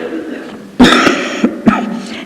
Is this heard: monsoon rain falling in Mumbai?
no